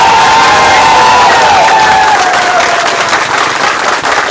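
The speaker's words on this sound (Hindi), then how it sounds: "एक बार खुद के लिए आप लोग ताली बजा दीजिए," A large crowd of home guard personnel applauds loudly and steadily, with some cheering mixed into the dense, continuous clapping.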